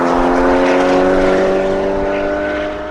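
Porsche Cayman 981 GT4 on a public road, its engine holding a steady loud tonal drone up close with strong harmonics, gently fading toward the end.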